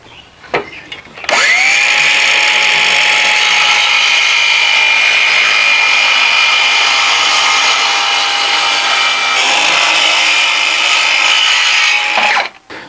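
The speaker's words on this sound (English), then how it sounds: "I've got my depth of cut for my saw set to just score through that top layer" A circular saw set shallow scores through the top veneer layer of a sheet for a roll-around tool cart, a loud steady whine of about eleven seconds with a slight dip partway, framed by brief spin-up and wind-down.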